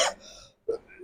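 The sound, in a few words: cough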